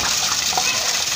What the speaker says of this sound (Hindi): कैमरा मैन आपको दिखा रहा है कि छत के ऊपर से पानी आ रहा है